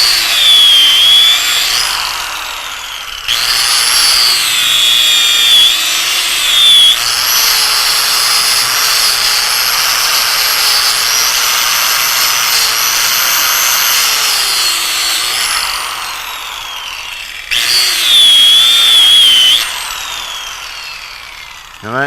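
A power tool spins a wheel against a spindle bearing part, giving a loud, steady high-pitched whine that briefly shifts in tone at the start and end of a long continuous run.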